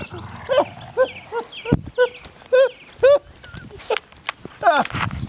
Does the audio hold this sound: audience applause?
no